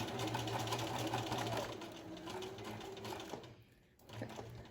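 A sewing machine runs steadily, stitching a V yoke seam, its motor hum and needle clatter continuous for several seconds before easing briefly and starting up again.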